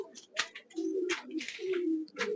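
Pigeons coo close by in a loft, several soft, low, throaty coos running back to back, mixed with a few short rustles and chirpy sounds, with no talking.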